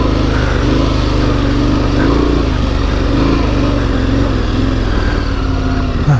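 KTM 1090 Adventure R motorcycle riding through soft sand, its engine droning loud and close at a steady throttle with slight rises in pitch.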